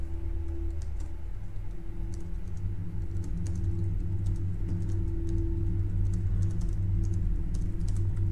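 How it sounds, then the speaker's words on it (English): Keyboard typing during a Kharak Cup match, light irregular clicks and taps running steadily over a constant low background hum, close and fairly quiet. "I'm just typing into Sharpblade now"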